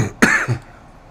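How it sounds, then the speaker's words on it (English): A man gives a single sharp cough, close and loud, with a brief rasping tail, during a live RV question-and-answer stream. "For some reason or another, as soon as I started this, I've got a cough."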